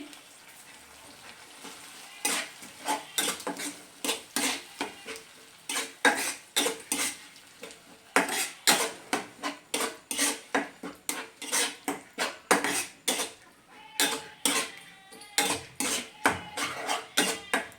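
Salted, spiced raw banana fries in a pot while a spatula stirs it briskly, giving a long run of rhythmic metallic scrapes and clanks over a light sizzle, close and loud with no speech.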